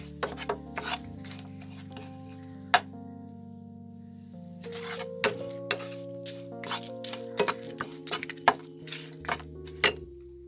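Cuttlefish pieces are tossed with a seasoning mixture in a bowl, making scraping, rubbing and clinking sounds that come close up, with sporadic sharper knocks and a faint tonal background hum.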